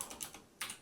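Quick keystrokes on a computer keyboard as short servo commands are entered: a few light, close clicks in a brief irregular burst, quiet and with no voices.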